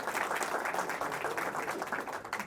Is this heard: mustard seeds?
no